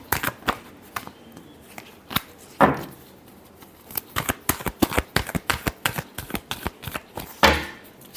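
Tarot cards being shuffled in a quick series of crisp riffles and flicks, a dense run of sharp close-up slaps with brief pauses and no talking.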